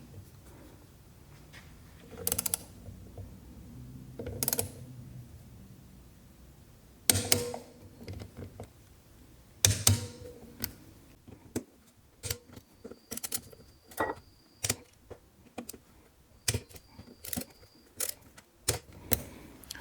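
A torque wrench on a Honda CBX clutch job being adjusted and set to a low inch-pound value, heard as a series of sharp close clicks and ratchety taps, sparse at first and then coming in a quicker, regular run.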